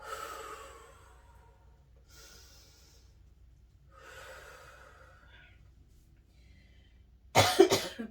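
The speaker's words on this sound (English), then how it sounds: "I'm still working through that cough" Soft breathing and faint rustles fill a quiet room, then a single sharp, loud cough bursts out near the end.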